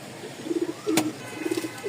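Pigeons, light biscuit-coloured pairs kept for sale, give soft, low repeated coos in short rounded bursts, with a brief sharp click in between and quiet surroundings.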